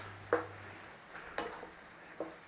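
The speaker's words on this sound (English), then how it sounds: "Give it a little stir." Quiet scrapes of a utensil stirring chicken basil stir fry in a pan, three brief strokes spaced apart over a low background hum, no talking.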